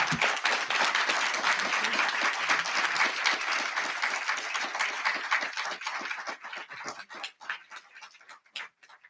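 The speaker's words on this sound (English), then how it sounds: "Let's have a warm round of applause." An audience gives a warm round of applause: dense, sustained clapping from a crowd that gradually thins to scattered, separate claps before dying away.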